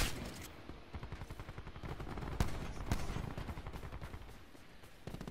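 Rapid automatic gunfire from a Call of Duty Black Ops 4 multiplayer match, a steady rattle of repeated shots with a couple of sharper, louder bursts, continuous and fairly close throughout.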